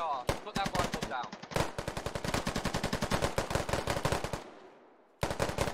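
Loud, rapid automatic gunfire rattles in sustained bursts during a Squad firefight, then stops briefly before firing starts again.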